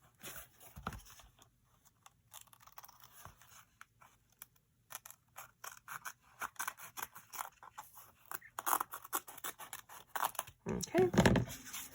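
Scissors snip through paper for a bird-themed junk journal, with scattered cuts and rustling growing busier toward the end, mixed with handling noises and some talk.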